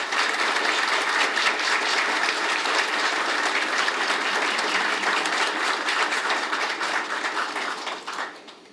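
Applause greets Maître Aviol Fleurant at a ceremony installing new Haitian government ministers. A large crowd claps loudly and steadily for about eight seconds before it quickly fades out.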